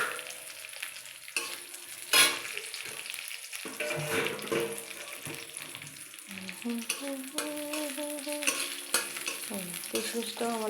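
Raisins frying in oil give a close, steady sizzle with crackles, a metallic clink, and spoon-stirring sounds throughout. A faint voice is heard in the background.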